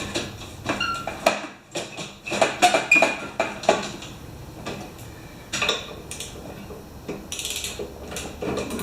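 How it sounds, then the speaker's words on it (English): A 1/2 inch ratchet clicks close by while a Craftsman snowblower is being serviced, with uneven bursts of sharp metallic ticks and rattles from the tool and parts. "I'm only using a 1/2 inch ratchet"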